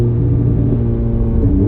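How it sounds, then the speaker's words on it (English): Ferrari F430 with F1 transmission downshifting, engine note loud and steady with a deep rumbling drone, heard close from inside the car with no talking. "Let's try downshifting. Much faster downshifts."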